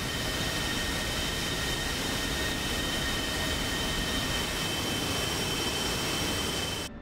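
A jet in DCS World rolls along the taxiway with a steady, loud engine roar and high whine that hold constant throughout, with no talk over it.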